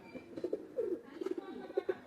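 A male Oman pigeon gives a run of low, rolling coos in short repeated bursts, fairly quiet and close, with no one speaking.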